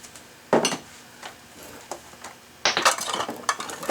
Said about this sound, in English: I am going to just reuse the spoon.